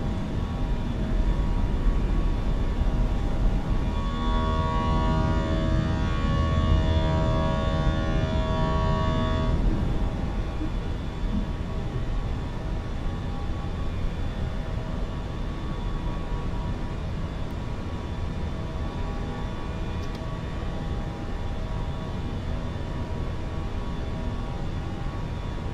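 Indigo A320 airliner climbing out after takeoff in Microsoft Flight Simulator 2020, a steady loud engine roar with broadband rumble and whine that drops slightly in level partway through and continues without talk.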